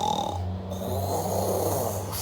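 A human voice mimics a dog snoring during a Spanish children's story, giving one long, loud, rasping inhaled snore that rumbles steadily for about two seconds with no other sound.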